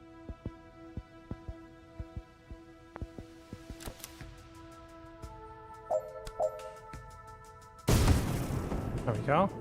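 A grenade blast in a video game arrives as a loud roaring burst after scattered thumps and pops over a steady musical drone, with the noise lingering to the end.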